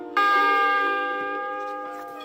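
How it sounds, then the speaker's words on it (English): A single bright chime rings out as a storybook page-turn cue for a 1982 book-on-record, striking once and then fading slowly. "when you hear the chime,"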